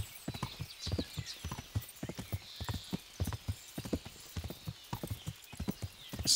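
Steady clip-clop of horse hooves on a hard surface in the video game Kingdom Come: Deliverance, an even walking rhythm of close, sharp knocks continuing throughout.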